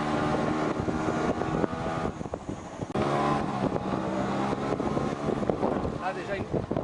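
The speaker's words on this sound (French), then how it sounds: "Là déjà une voiture commence à pénétrer." A car entering a sandy trail on Djerba, its engine drone mixed with heavy wind buffeting the microphone, continuous and fairly loud with gusty fluctuations throughout.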